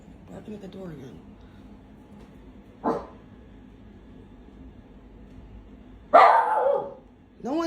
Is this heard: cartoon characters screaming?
no